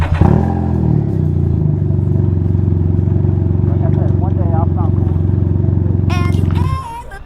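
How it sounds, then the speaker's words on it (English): A loud motorcycle exhaust drones with a deep, steady rumble that holds for several seconds and then cuts away near the end, where a voice briefly speaks. "This dude's exhaust is so loud"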